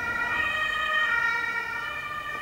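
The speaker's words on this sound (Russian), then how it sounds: "Видите, у нас тут постоянно скорой помощи ездит." An ambulance siren wails loudly along a street in Germany, its steady, tonal warble holding close for the whole stretch with faint road noise beneath.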